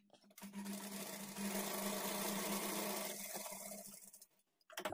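A sewing machine stitching lining blouse pieces together whirs in one steady, continuous run that starts after a brief pause and stops shortly before the end, close and alone with no talking.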